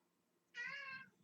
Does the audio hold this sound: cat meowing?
yes